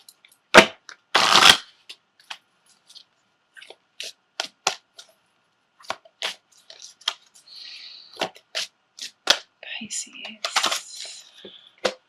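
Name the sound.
shuffling a deck of tarot cards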